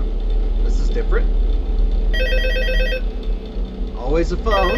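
An old-style telephone bell rings in bursts in the Five Nights at Freddy's 2 video game, heard over a steady low hum, with someone talking before and after the ringing.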